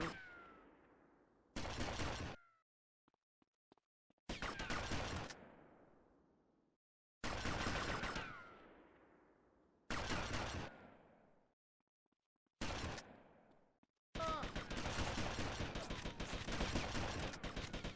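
Gunfire in GTA Vice City Definitive Edition rings out in several loud, separate bursts of rapid shots with quiet gaps between them, ending in a longer sustained volley.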